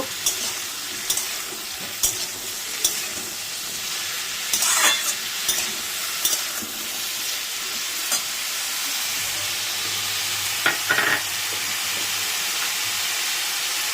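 Bitter gourd fries in a pan with a loud, continuous sizzle and hiss, punctuated by scattered scraping and tapping stirs throughout.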